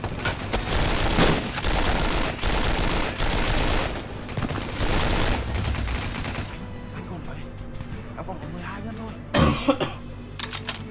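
Machine gun fire in the video game 7554, long dense bursts of rapid shots, loud and close, breaking off into quieter scattered sounds and a final sharp burst, with a voice speaking partway through.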